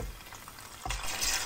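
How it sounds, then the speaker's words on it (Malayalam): Marinated prawns frying in sesame oil for pickle, a steady close sizzle with a scrape of stirring and a brief surge of crackle partway through. "നല്ലെണ്ണയിലാണ് ഞാനിന്ന് ചെമ്മീൻ വറുത്തെടുക്കാനായിട്ട് പോകുന്നത്."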